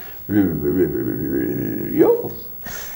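A man imitates a dog's vocalizing, a drawn-out whining, yowling sound, loud and close for about two seconds.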